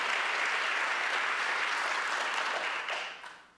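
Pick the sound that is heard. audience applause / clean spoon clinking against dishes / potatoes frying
audience applause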